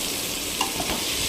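Carrots, beans and potatoes stirred in a pan, a steady sizzling fry with a spoon scraping through the vegetables, continuous and close.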